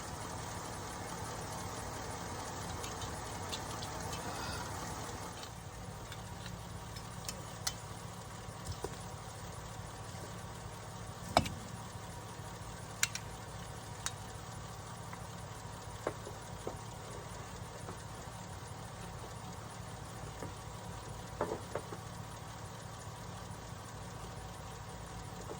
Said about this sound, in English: Let's get this tractor cranked and get these greens in the ground right now.